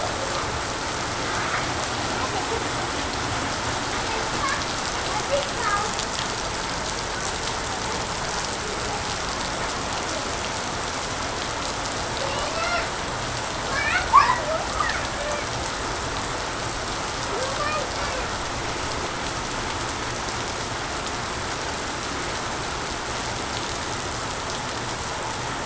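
Heavy pre-monsoon rain falls in the Konkan, a steady dense hiss of drops on surfaces that holds evenly throughout, with a brief louder knock midway and no clear talk.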